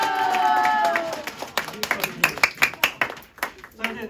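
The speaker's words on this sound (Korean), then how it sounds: "오늘 특별한 시간 정용철 멘탈 코치님께 자 박수." A group of ice hockey players in a locker room claps for their mental coach, the clapping picking up into a quick, uneven burst of claps after a voice fades out.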